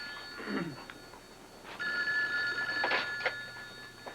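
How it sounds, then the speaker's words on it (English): A telephone rings in a 1981 soap opera scene, a faint electronic bell tone sounding in short bursts over quiet room noise, with a brief murmur of voice early on. "That would be the phone."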